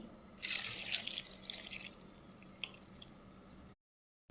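A small glass of water poured into a pan of green chillies and turmeric for bottle gourd curry: a close, splashy pour of about three seconds with a few drips, with no talking.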